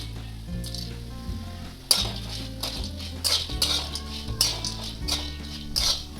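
Spices for kanda lasun masala roast in oil in a pan, a steady sizzle under repeated metallic clinks and scrapes of a spoon against the pan, close and moderately loud, with a low hum beneath and no speech.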